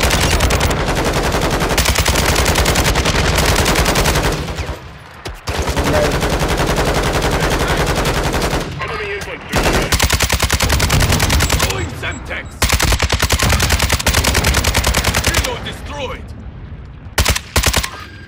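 Sustained bursts of automatic gunfire from a military shooter video game battle, loud and dense, with short pauses between volleys and voices talking over the shooting.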